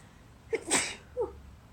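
A single sharp sneeze with a brief inhale before it and a small trailing sound after, close and loud against a quiet room.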